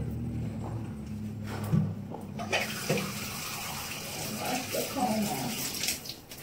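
Tap water running while a comb is rinsed out during a natural hair wash routine, a steady close splash with brief clatters, under occasional talk.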